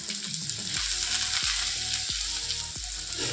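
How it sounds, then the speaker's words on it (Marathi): Okra frying in a pan sizzles steadily while a spoon stirs it, with a few soft scraping strokes against the pan, close and continuous without talk. "आणि भेंडीला मिक्स करून घेऊया चांगलं."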